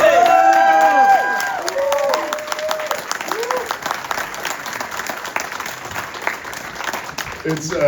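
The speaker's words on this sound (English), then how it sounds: "Big round of applause for Graham Platner" Crowd applause and cheering for Senate candidate Graham Platner at a rally in Lewiston/Auburn, Maine, loud at first with whoops and voices, then settling into steady clapping that tapers slightly toward the end.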